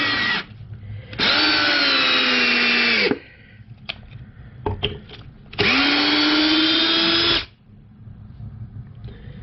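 A DeWalt 12V Xtreme 3/8 cordless drill/driver runs a countersunk screw home in two loud, close bursts of motor whine, each dropping in pitch under load, with clicks and handling noises between them.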